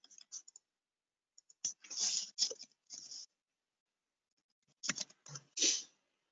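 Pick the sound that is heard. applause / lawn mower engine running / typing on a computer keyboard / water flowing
typing on a computer keyboard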